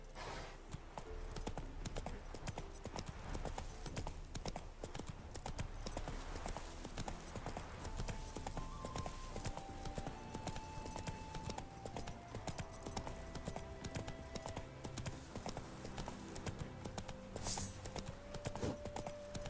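Roach, the horse in The Witcher, gallops at a steady pace, its hooves clip-clopping continuously throughout with a faint in-game music line beneath.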